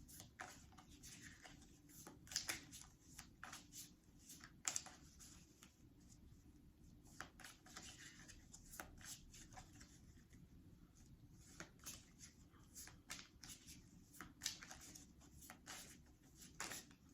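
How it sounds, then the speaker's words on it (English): Soft, repeated riffling and sliding of oracle cards being shuffled, quiet and close, in a steady irregular rhythm with no talking. "Now I'm gonna shuffle some of the lovely lady oracle cards"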